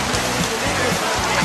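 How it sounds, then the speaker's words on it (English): Heavy rainy-season downpour, a dense, loud, steady hiss of rain hitting surfaces with occasional low thuds, continuous throughout with no talk. "It's pouring down rain right now."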